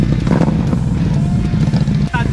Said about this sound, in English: You got the exhaust clapping